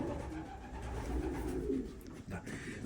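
A racing pigeon coos low and continuously in a loft, steady murmuring cooing close by with background bird activity and no clear talk.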